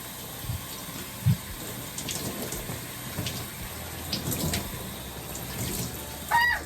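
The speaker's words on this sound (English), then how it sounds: "I do go ahead and rinse the girl's hair just with water just to get out any excess product" Running tap water rinses a child's hair, a close steady flow with splashes and a few bumps, and no one speaks over it.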